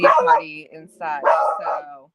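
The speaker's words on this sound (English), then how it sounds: "And I heard the dogs barking." A dog barks indoors in short, sharp bursts, close and fairly loud, overlapping a person talking.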